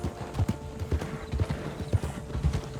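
Horse hooves clip-clop at a steady trotting rhythm in Red Dead Redemption 2 Online, with a brief whinny, loud and close with no talking.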